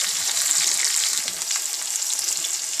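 Bitter gourd (karela) frying in a pan alongside onion and potato, giving a steady, loud, continuous sizzle with a fine crackle throughout and no talking.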